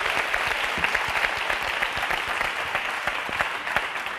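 A TV3 quiz show studio audience applauds on La Partida, with dense, even clapping that holds at a loud, steady level for the whole stretch and has no voices over it.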